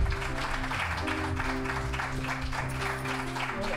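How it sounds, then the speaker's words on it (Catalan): A studio audience claps steadily for an award winner, many hands making a dense, even applause that carries across the whole stretch with no pause and faint music underneath. "Un aplaudiment."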